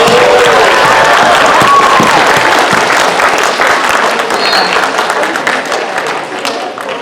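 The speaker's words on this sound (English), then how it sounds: "let's give our candidates another round of applause." Loud, dense applause from a school audience for student council candidates. The clapping is sustained and close, with a roomy crowd texture, and it tapers slightly toward the end of the burst.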